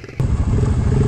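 Off-road motorcycle at a recreation area revving hard as it lifts into a wheelie, a loud close engine roar kicking in abruptly and holding steady.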